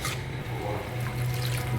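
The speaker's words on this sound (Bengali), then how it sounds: "তো আর একটু জল অ্যাড করলাম" Water poured into spices in a cooking pan for a fish curry, a continuous close splashing pour with a low rushing hum, alone without speech.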